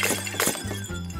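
Glasses shatter in a video game, a quick run of sharp crashing breaks in close succession, bright and loud, with tinkling fragments between impacts.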